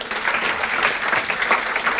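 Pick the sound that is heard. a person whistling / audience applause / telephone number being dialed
audience applause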